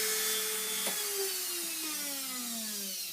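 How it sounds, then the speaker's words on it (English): A Dremel rotary tool grinding an accordion reed on a tuning table, a steady high whine whose pitch slowly falls as it works, close and sustained, with no talking. "I quickly adjust it again using my Dremel"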